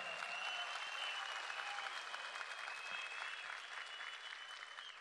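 Sustained applause from a crowd at an outdoor political rally in Muğla, Turkey, steady and dense for the whole stretch, with no voices rising above the clapping.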